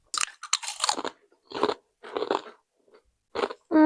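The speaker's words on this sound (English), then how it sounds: "I feel like I'm chewing it longer." Protein Doritos chips being chewed up close, loud crisp crunches coming in irregular bursts separated by short silent pauses.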